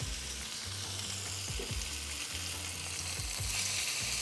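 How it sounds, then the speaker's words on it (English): Lamb chops sizzle and crackle steadily in an oiled pan over very high heat, a constant bright hiss with occasional low knocks and scrapes of stirring, close up with no talking. "As always, we want to hear that sizzle."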